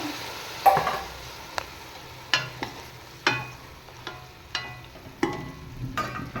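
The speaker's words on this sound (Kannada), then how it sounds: "ಈಗ ಮಟನ್ ಹಾಕಬೇಕು. ಮಟನ್ ಹಾಕ್ತಿದ್ದೀನಿ." Mutton pieces dropped into a pan of well-fried onions, sizzling steadily with repeated sharp scraping and stirring knocks of a utensil against the cookware, no voices.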